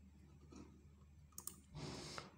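Soft mouse clicks while working in Photoshop, a few quick close ticks over quiet room noise followed by a short burst of rustling.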